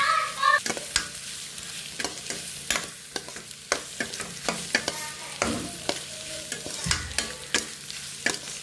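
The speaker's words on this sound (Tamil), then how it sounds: "நல்லா வதங்கட்டும்" Ingredients sauté in a frying pan, a low, steady sizzle under regular sharp taps and scrapes of a spatula against the pan, close by and without speech.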